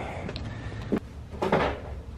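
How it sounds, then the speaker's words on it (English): Chairs wrapped in plastic are lifted out of an abandoned storage locker, giving a few hollow knocks and a scraping clatter against a muffled room background. "I will now go ahead and take out all these chairs."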